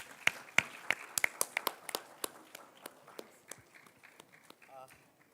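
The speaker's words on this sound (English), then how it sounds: "let's give a big round of applause for our guest speakers." A live audience claps for guest speakers at a cancer-awareness session, with sharp, close claps in a quick burst that thin out and fade over a few seconds.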